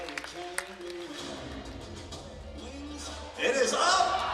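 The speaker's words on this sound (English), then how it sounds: "All right, let's cheer Kevin on." A crowd at an EAC women's basketball game against Yavapai bursts into cheering and applause for Kevin's shot. The outburst swells suddenly near the end, after a stretch of background murmur and a voice talking.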